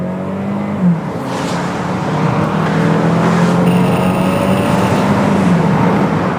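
A Toyota Camry 2.5 XLE with a 2.5-liter engine accelerates on a test drive, its engine note climbing steadily under a constant interior road roar, loud and continuous with no talking.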